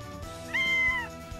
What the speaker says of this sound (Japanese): 猫くんだ。